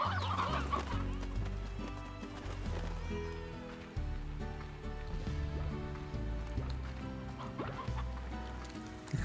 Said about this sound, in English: Briar hens I will leave here.